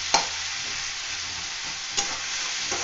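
Onion and tomato frying in a pan, a loud continuous sizzle with a few scraping stirs of a spatula, close and steady with no talking.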